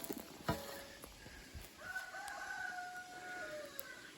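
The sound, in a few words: rooster crowing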